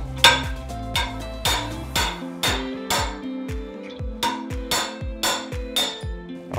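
A steel hammer strikes again and again while nails are being pulled from reclaimed wood, a series of about a dozen sharp metallic knocks with ringing tails, fairly close and steady in rhythm, with no talk.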